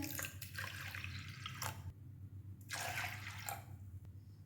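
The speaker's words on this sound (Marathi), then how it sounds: "आता ही डाळ धुवून झालेली आहे पाणी घालूया यात" Water pours steadily into a pot of washed lentils in two bursts, splashing and trickling against a low background hum, with a short pause between pours.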